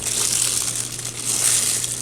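Parchment paper being crumpled by hand, a dense, continuous crackling and crinkling up close with no voices.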